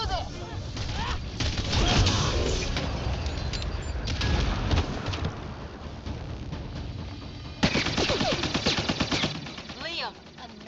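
Sustained automatic gunfire in the sci-fi shooter Mass Effect Andromeda comes as rapid bursts of shots over a constant battle din. It is loud throughout, with a sharper volley near the end, and voices shout in between.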